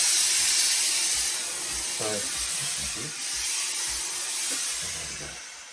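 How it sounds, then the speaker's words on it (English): A handheld steamer hisses steadily and loudly as it steams the felt of a blue Lock & Co fedora. Someone talks quietly underneath the constant close spray. "I'm just going to give it a general steam"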